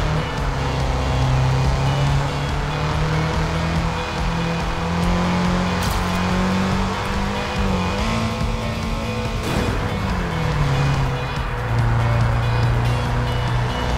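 A racing car in TrackMania 2 Valley drones steadily under acceleration for the whole stretch, engine pitch rising and dipping through gear changes and turns, loud and close with brief tire-squeal moments and no talk.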